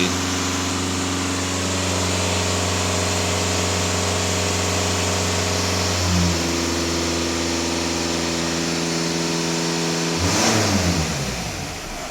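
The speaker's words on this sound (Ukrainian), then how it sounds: "Автомобіль сам підіймає обороти, шукаючи вихлоп." A Skoda Superb diesel engine running loudly during DPF cleaning, its droning pitch climbing partway through as it raises its own revs, then revving higher again near the end.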